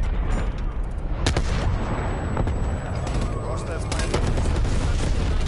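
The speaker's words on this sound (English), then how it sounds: "Throwing frag grenades." Frag grenades burst amid rattling gunfire in a Call of Duty Cold War match, sharp loud cracks and heavy booms piling over a constant chaotic roar, with voices talking through it.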